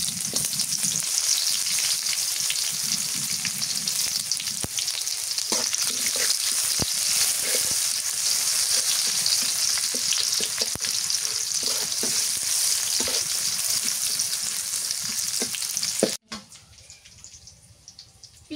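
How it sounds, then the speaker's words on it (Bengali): Chopped onions frying in mustard oil with bay leaf, cinnamon, cloves and cardamom, a loud continuous sizzle with stirring clicks and scrapes throughout, ending abruptly near the close. "পেঁয়াজ কুচি দিয়ে দিই"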